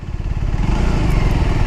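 Orcal SK01 motorcycle engine pulling hard on an open road, a loud, steady low drone with throbbing pulses as it accelerates, close and alone without talk.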